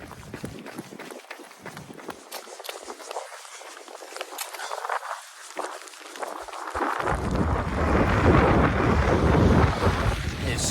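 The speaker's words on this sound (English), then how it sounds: "It sure is windy." Strong wind blows outdoors in the rain, buffeting the microphone with gusty rumbles and footsteps while someone runs. It swells into a louder, sustained roar in the second half.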